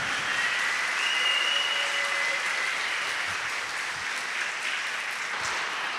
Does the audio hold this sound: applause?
yes